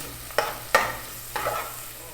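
Onion and other chicken adobo ingredients being stirred in a hot pan, three distinct scraping strokes over a soft continuous sizzle.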